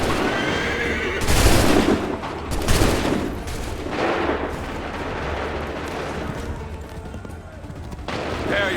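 Musket volleys crack out in the 2012 game Assassin's Creed III on PC, several loud bursts in an irregular rhythm, mixed with horses whinnying and voices shouting across the battlefield.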